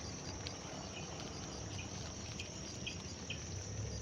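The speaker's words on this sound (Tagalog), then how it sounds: "Parang tumutunog na yung mga palaka mga tol." A steady chorus of insect-like calls fills a damp, grassy spot at night during light drizzle, with frogs starting to call, the trilling dense and continuous at moderate level with faint drips.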